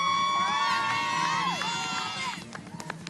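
Families cheering on finalists at a competition field, a lively crowd of shouts and whoops with tonal sounds over it, fading into scattered cries and claps toward the end.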